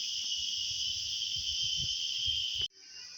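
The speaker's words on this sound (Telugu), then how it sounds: "అద్భుతంగా అరుస్తున్నాయి ఆ పురుగులు." A loud, unbroken insect drone rises from thorn bushes, with faint low thumps and rustles beneath; the chorus cuts off abruptly near the end, leaving a quieter, thinner buzz.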